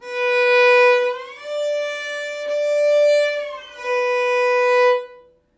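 A bowed string instrument holds a clear note, slides smoothly from first to third position at a higher pitch, sustains it, then glides back down to the first note.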